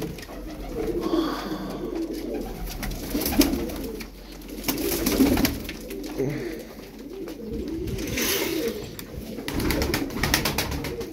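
Turkish tumbler pigeons coo steadily in a loft, a soft low murmuring that stays continuous under clatter and rustling, with a few louder bursts.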